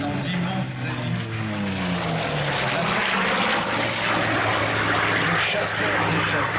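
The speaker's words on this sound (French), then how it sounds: "Le chasseur des chasseurs, le Hawker Sea Fury." A Hawker Sea Fury propeller fighter flies at the La Ferté-Alais airshow, its engine a loud, steady drone that shifts pitch as it passes. Someone talks over it.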